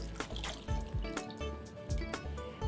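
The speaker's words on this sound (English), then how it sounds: "Rinse it with some water" Water splashes and runs in short bursts as soya chunks are rinsed, with repeated sloshing and dripping sounds close by.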